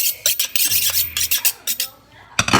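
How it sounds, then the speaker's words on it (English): A small knife is sharpened close up, with a quick run of short rasping strokes that ends in a brief pause before one last scrape. "So this knife is sort of sharpening it up."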